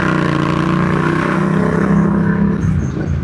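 A loud Yamaha MT-07 motorcycle engine revs steadily and continuously, a deep throbbing drone with rising harmonics, close by with no talking.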